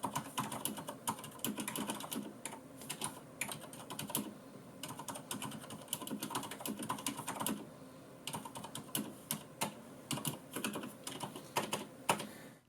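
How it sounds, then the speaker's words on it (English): Rapid typing on a Fnatic Gear Rush G1 mechanical keyboard with Cherry MX Silent Red switches: dense, quiet, muted keystrokes in continuous bursts with a short pause midway, heard close up. "let's first give you a sound sample"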